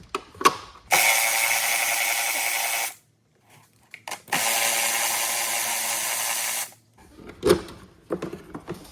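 A ratchet backs out two 10mm bolts from the engine cover of a 2018 Ford F150 3.5 EcoBoost: two long, close, steady runs of rapid clicking with short pauses and a few tool knocks between them.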